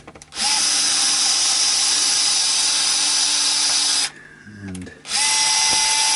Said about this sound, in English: I'm going to remove these screws